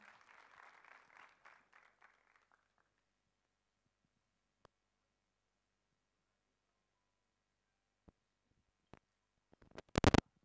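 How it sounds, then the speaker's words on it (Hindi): Applause from a crowd at the Thackeray 2 trailer launch greets Sanjay Raut. It is soft and fades out within the first two seconds, then near silence follows with a few isolated clicks and a sharp burst of knocks at the end. "तो जोरदार तालियां हो जाए।"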